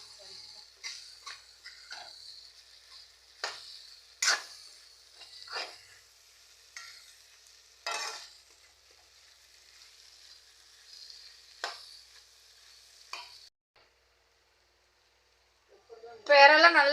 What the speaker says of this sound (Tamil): இப்போ இறெல்லாம் நல்லா வதங்கிடுச்சு பார்த்தீங்களா, நல்லா சுருங்கிடுச்சு.